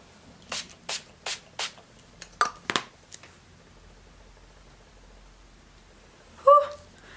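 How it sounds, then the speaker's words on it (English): Several quick hissing sprays from a setting spray pump bottle, four evenly spaced, then a few more irregular bursts, close and fairly soft. "Now just for a little bit of setting spray"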